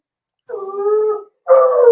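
A dog howls in two close, tonal, mournful bursts, the second rising into a whimpering whine, loud and near against silence, with no talking.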